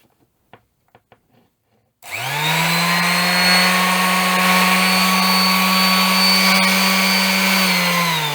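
A Hychika random orbital sander starts after a few light clicks and then runs steadily, giving a loud constant motor whine with a strong low hum and bright high overtones.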